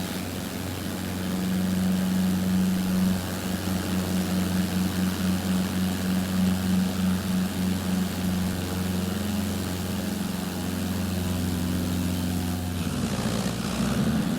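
Propeller airplane engine idling and rumbling steadily behind the player in Microsoft Flight Simulator 2024, a loud continuous drone with a low hum that holds throughout and swells slightly near the end.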